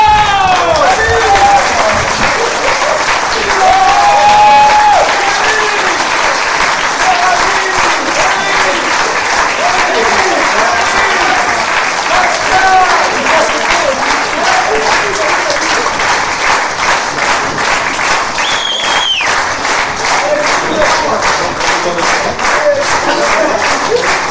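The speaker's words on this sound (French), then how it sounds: "que vous les applaudissiez très très fort" Loud, sustained applause from a theatre audience for the team members on stage at a French game show, dense clapping running steadily throughout with occasional voices and cheers mixed in.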